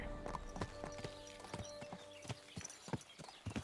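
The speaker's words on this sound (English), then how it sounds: "You can just follow the road and the horsey will go on her own" Horse hooves clip-clop steadily on a road in the medieval game Kingdom Come: Deliverance 2, a rhythmic near trot of hoof strikes over a soft ambient bed with a brief whinny-like tone, no talking.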